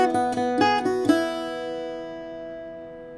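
Irish bouzouki picks out the first line of a tune's A section: a handful of bright plucked notes in quick succession, close and clear, with the last strum left to ring and fade slowly, no voices.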